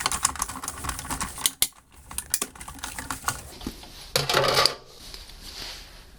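A die-cutting machine runs paper through to cut a second basket piece and handle, giving a steady close run of dense crunching and clicking with a brief louder burst near the end, no talk.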